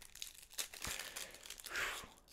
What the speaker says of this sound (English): We're chopping through with scissors.